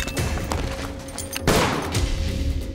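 Gunfire in the film Fields: a loud, dense burst of shots with a sharp crack near the middle, set against a busy background.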